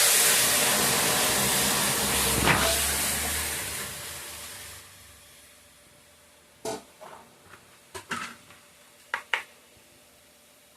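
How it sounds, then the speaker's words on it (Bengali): Dal poured into hot oil tempered with onion, bay leaf and panch phoron erupts in a loud, steady sizzling hiss for several seconds, then dies down, followed by a few brief clatters. "এখন ডালটা সম্বাদ দিয়ে দেবো।"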